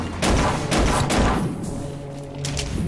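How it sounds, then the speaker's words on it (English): Gunfire from allied soldiers in the video game Ancient Warfare 3: a rapid cluster of sharp shots early on, a quieter lull, then a few more scattered reports, all without talk. "I hear my boys firing outside, too"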